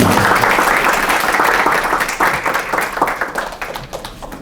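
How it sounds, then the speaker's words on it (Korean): Applause from a conference audience after a Korean tech talk on Scala and Finagle microservices. The crowd claps dense and loud, then thins toward scattered claps at the end. "저희 수고해주신 송은우 님께 다시 한번 큰 박수 부탁드리겠습니다"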